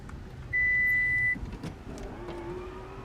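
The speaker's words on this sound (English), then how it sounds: "Power tailgate." The power tailgate of a 2017 Lexus NX200t opens with a short motorized whir, preceded by a steady electronic tone, against low background hum.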